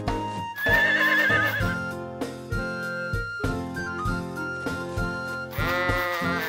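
Sheep in the farming video game Harvest Moon The Winds of Anthos bleat in wavering cries over steady, melodic game music, loud and up front.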